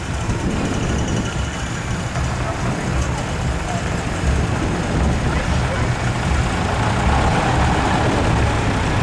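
A vintage standard diesel tractor engine idles steadily at an outdoor vintage show, a continuous loud rumbling drone that fills the whole stretch without a break.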